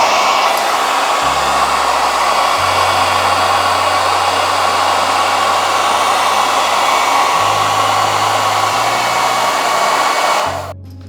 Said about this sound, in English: First, we're going to test the hair dryer.